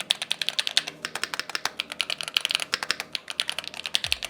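Fast clacky typing on a mechanical keyboard with Gateron Jet Pro switches, close and crisp, keystrokes tumbling in an uneven but continuous rhythm with no voices.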